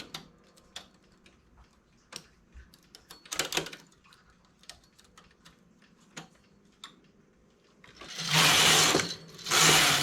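A domestic knitting machine worked at tension setting 7 on a cable-stitch margin: scattered light ticks and clicks, then two loud, sustained rasping sweeps of the carriage near the end.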